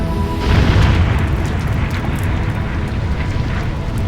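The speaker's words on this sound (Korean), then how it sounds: "베수비오 산이 폭발했다." A dramatized eruption of Mount Vesuvius makes a deep, continuous roaring rumble. It swells to a loud boom early on and then sustains as a heavy, churning low roar.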